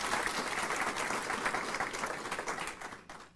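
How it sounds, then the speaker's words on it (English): Audience at a US Army garrison ceremony in Rheinland-Pfalz recognizing suicide prevention efforts gives a round of applause for the speakers, a dense steady clapping that thins and fades toward the end. "Please give a round of applause to our speakers."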